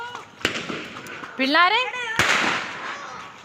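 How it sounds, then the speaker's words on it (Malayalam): Firecrackers burst with two sharp, loud bangs separated by a rising whistling sound, while a voice calls out nearby. "ഈ പടക്കം കത്തിച്ചിട്ട് ഒന്നും കാണാൻ"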